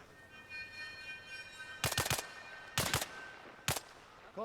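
Enemy gunfire in a video game crackles in three short bursts of rapid shots over a steady background hum, moderately close and loud, with no talk.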